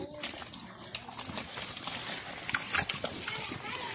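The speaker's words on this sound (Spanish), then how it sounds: "Llegó la hora, van a comer los puercos." Pigs being fed and eating make busy squeals, grunts and feeding clatter, close and continuous, with voices murmuring in the background.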